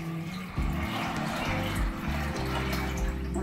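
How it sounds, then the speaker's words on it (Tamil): Water poured from a vessel into a pot of soaking mung beans, a short continuous splashing fill close by. "தேவையான அளவு தண்ணி விட்டு"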